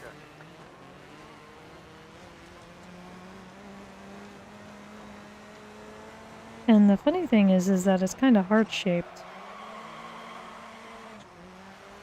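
In a racing video game, a race car engine rises in a quick run of revving, whining bursts for a couple of seconds and then fades back into a low background drone, while a person keeps talking over it.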